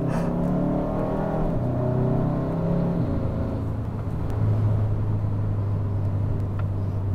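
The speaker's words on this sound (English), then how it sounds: "this dual clutch shifts pretty quick" A Hyundai Sonata N Line with a dual-clutch transmission accelerates from inside the cabin, the engine drone rising in pitch, dropping sharply at a quick gear shift, then climbing again under steady road rumble.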